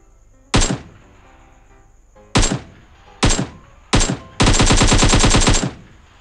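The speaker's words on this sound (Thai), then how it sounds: "บนเขาตรงนู้นนะยิงกันอยู่" Automatic gunfire in PUBG Mobile on a hill: four short loud bursts spaced a second or so apart, then a sustained rapid volley of shots lasting nearly two seconds, with no talk over it.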